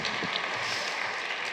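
Audience clapping at a university State of the University address, a steady broadband wash of applause filling the whole stretch at moderate level, with no talking over it.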